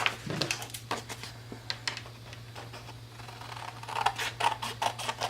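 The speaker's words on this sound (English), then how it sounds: "I'm going to take that and then cut our circle in half" Scissors snip through a paper circle in a quick series of close, crisp cuts, with short pauses between the strokes and a faint steady hum underneath.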